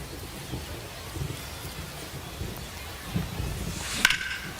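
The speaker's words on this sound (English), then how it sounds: "the rain's still a factor here" Rain falls on a baseball field in the MLB The Show 25 video game as a faint, steady patter with a few soft thumps and one brief sharp crackle near the end.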